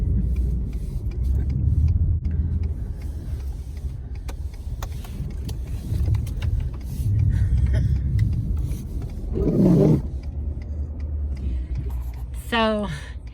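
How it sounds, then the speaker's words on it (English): A bus rumbles past on a snowy street in Fort McMurray, Alberta, at -11 Celsius. A steady low engine drone swells and holds, and a rising brake squeal comes near the end. "I have a bus coming, and I have to get out of the way."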